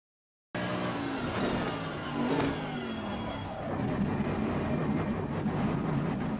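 Race car in Assetto Corsa Competizione braking for the Imola pit entry, a loud continuous engine roar with downshift blips and falling pitch, close and steady with no talk.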